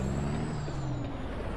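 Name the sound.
truck air brakes in American Truck Simulator video game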